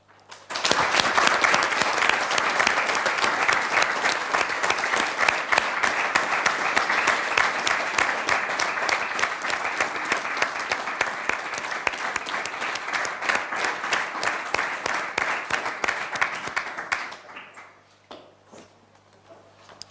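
Sustained applause from a municipal council meeting audience honoring two council members, dense steady clapping for about seventeen seconds before stopping abruptly, leaving faint room noise.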